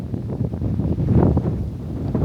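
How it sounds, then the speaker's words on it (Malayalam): Wind blows across an open hilltop, buffeting the microphone in a loud, steady low rumble with gusty swells and no other clear sounds. "കാറ്റുണ്ട്."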